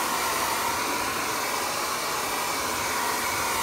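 A hair dryer at reduced power blows close over wax on stone paper, giving a continuous loud airy whoosh with a steady motor hum throughout.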